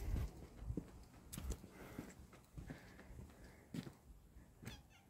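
A cat meows several times in a series of fairly faint cries, with soft thumps like footsteps around them.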